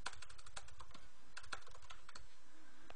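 Someone types a sudo command on a computer keyboard on an Ubuntu machine: a quick, close run of light key clicks with short pauses between bursts, heard alone without talk.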